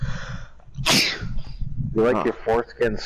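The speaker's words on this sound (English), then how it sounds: "Oh god, I sneezed" A single loud, sharp sneeze bursts out near the start, followed by someone speaking close by.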